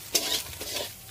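Chicken and egg mixture being stirred and fried in a pan for a chicken omelette, with a few short scraping strokes over a steady soft sizzle, close and moderately quiet, no talking.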